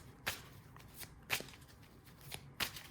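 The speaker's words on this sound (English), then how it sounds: "I'm gonna shuffle again" Tarot cards are shuffled close up in three or four quick, crisp riffling bursts spaced about a second apart, with quiet gaps between.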